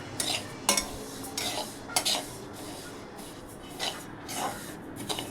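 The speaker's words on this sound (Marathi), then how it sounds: "तीळ चांगले खमंग भाजायचे, थोडे लालसर होईपर्यंत भाजायचे।" Sesame seeds being stirred while dry-roasting in a pan over low heat for Makar Sankranti til-gul ladoos, a scraping, rustling stir with several sharper clinks of the spoon against the pan, close and moderately loud.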